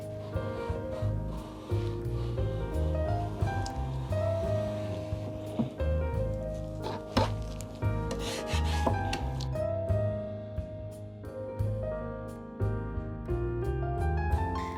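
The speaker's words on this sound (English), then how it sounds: "It actually took me all day to scrape everything off" Old finish is scraped off thrifted wooden furniture, a run of repeated rubbing, rasping strokes heard close up beneath steady background music.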